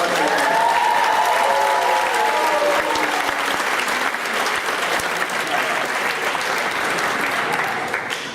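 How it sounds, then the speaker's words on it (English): An audience at a seminary faculty bowl event applauds loudly, a dense wash of clapping with some crowd noise that starts strong and tapers slightly over several seconds. "How about a round of applause for our women?"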